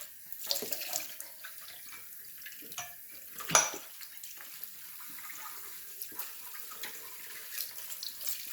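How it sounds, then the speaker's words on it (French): A coffee mug is washed under a running kitchen tap, with a steady stream of water and a few close clinks and knocks of the cup against the sink, and no talking. "Je lave la tasse de mon mari"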